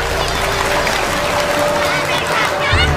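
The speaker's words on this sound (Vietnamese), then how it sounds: "Xin đại chúng một tràng vỗ tay cho mẹ gà." Audience applause at a Buddhist dharma talk, a dense broadband patter of many hands clapping steadily for about three seconds, fairly loud and close, with a faint voice murmuring underneath.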